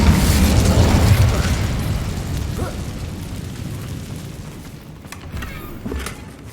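An Incendio fire spell is cast in Hogwarts Legacy, a loud whooshing burst with a fiery roar that gradually fades into crackling, followed by a few lighter pops.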